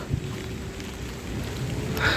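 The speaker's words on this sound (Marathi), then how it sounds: "अजून गडगडा चालू हा पाऊस कमी झालो हो" Steady rain pours down in a dense hiss during a heavy Konkan storm, with a faint low rumble of thunder beneath it.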